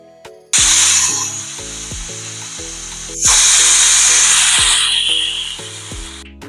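A pressure cooker on a high flame lets out two loud, sustained hissing whistles of escaping steam, the second starting midway, over a repeating melodic music bed.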